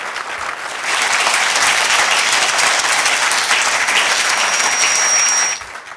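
Conference audience at a security talk breaking into applause, a dense wash of many hands clapping that swells in quickly, holds steady for several seconds, then stops abruptly.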